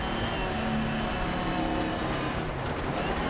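Audi Quattro rally car engine in the racing game Dirt Rally 2.0, a continuous loud drone with a wavering mid-pitched tone throughout, with no talk.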